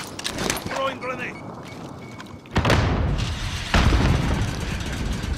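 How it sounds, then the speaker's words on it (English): Grenade explosion in a Call of Duty Warzone-style shooter, a sudden heavy boom midway followed by a second loud blast, each leaving a rumbling tail, with voices talking earlier. "Throwing grenade."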